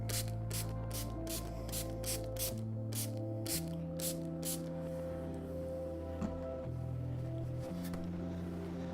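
A series of short, quick hissing bursts spraying liquid onto paper over oxide ink, close by, repeated in quick succession over a steady low musical hum.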